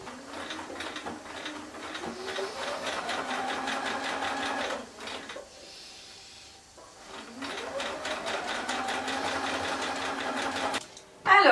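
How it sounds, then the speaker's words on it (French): A sewing machine stitches a winter coat's lining in two close, rapid bursts of even, rhythmic needle clatter, separated by a short pause, with a brief clunk at the end. "je vais déjà piquer ça à la machine"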